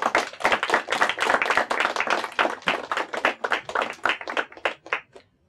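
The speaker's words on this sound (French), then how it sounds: "On les applaudit bien fort, s'il vous plaît." An audience at a school competition claps hard and fast, with sharp individual hand claps close to the microphone, then tapers off and stops just before the end.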